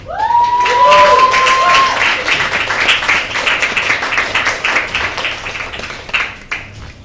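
Poetry-lounge audience bursts into applause after a spoken-word set, with a high whoop early on, then dense steady clapping that gradually thins out toward the end.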